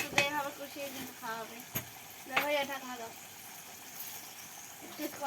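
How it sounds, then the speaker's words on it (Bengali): Fish fried and stirred with spices in a pan give a steady low sizzle with occasional scraping stirs, while a voice talks over the cooking throughout. "আজকে মাছগুলো করে নিয়ে একেবারে কষিয়ে নিচ্ছি মশলার সঙ্গে"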